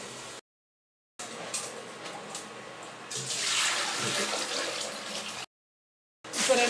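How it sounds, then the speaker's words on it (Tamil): Water from cooking mutton in a pressure cooker is poured into a pot for mutton biryani in two measures. The pouring is a close, splashing rush that comes in separate bursts, broken by short silent gaps. "இதில் 2 பாத்திரம் தண்ணி நம்ம சேர்க்க போகிறோம்."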